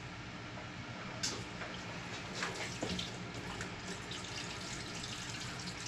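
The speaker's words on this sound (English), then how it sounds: "I'm going to use that same pump to pump the water out of these onto that lid" Water pumped out of a bucket into an aquarium lid pours in a steady, faint trickle and gush, with small splashes and drips over a constant pump hum.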